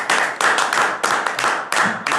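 A studio audience on a Punjabi comedy talk show claps in several loud, close bursts of dense applause, each lasting a fraction of a second and separated by brief gaps.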